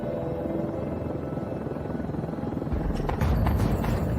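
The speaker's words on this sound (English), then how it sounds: "The police helicopter, it picked up a heat source of a person that was running away." Police helicopter flying overhead during a night search, a steady low rotor drone that thickens and grows louder near the end, with no voices.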